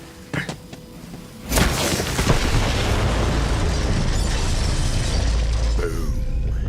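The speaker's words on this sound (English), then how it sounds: "The explosion echoed through the forest" An explosion in the video game Borderlands 3 bursts in as a loud, sudden boom after a few quieter clicks and thuds. It then rolls on as a long, heavy rumble that fills the rest of the moment.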